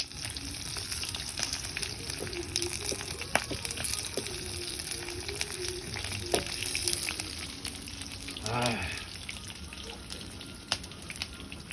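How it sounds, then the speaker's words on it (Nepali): Sukuti, a local dried meat, fries in a home kitchen pan with a steady, moderate sizzle throughout, along with scattered clinks and stirring sounds and a brief louder burst of sputtering near the end. "मासु यहाँ यसरी मासु यो फ्राई हुँदैछ"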